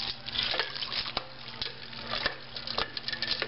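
Stirring cheeseburger pasta dinner in a pan on the stove, with scraping and clinking of a utensil against the pan under a soft sizzle, close and fairly quiet.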